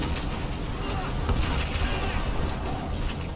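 Cannon fire in the video game Outriders, dense booming gunfire and blasts rolling continuously as a loud, noisy barrage.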